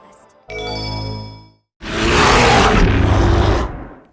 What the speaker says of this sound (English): it was the humongous 20-ton dragon made out of rocks.